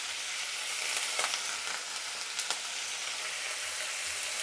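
Tomato, curry leaves and coriander sizzle and fry in hot oil for a dosa side dish, a steady close crackling hiss with a few louder pops and faint stirring, no voices.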